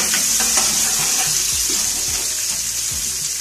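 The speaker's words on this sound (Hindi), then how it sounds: "इसको फ्राई करूंगी अच्छी तरह," Chopped onion and garlic frying in a pan for aloo methi, a steady close sizzle with a few light scraping stirs and no talking.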